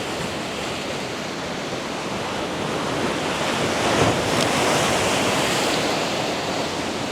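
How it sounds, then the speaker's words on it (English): Ocean waves crash steadily on the shore, a loud, continuous roar of surf with wind noise that swells slightly midway, and no voices. "Some nice crashing waves"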